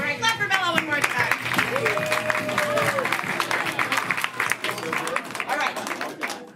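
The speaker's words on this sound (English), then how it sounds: "clap for Bella one more time" Comedy show audience clapping and cheering for a performer, loud dense applause with crowd noise, while a voice speaks over it near the start.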